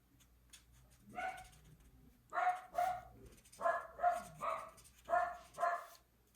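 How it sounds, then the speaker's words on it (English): Dogs bark indoors at home in a series of about eight sharp, fairly close barks, bunched in pairs and short runs with brief gaps. "It just wouldn't be my house if my dogs weren't barking."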